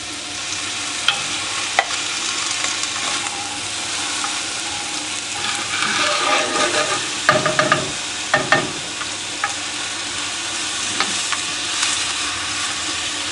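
Onions sweating in a pan with added salt and a splash of water give a steady, close sizzle and hiss throughout, with occasional stirring scrapes and bursts of steam.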